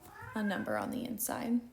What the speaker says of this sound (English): I don't know if you can hear my cats in the background,